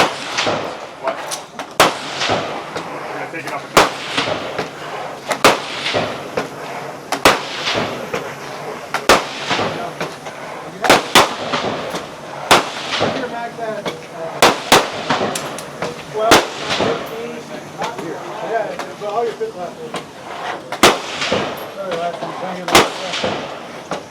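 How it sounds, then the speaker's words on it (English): Pistol shots ring out at a competition firing line, sharp loud cracks arriving in irregular bursts over roughly twenty seconds against background crowd and ambient noise. "one more firing line sequence with the pistol"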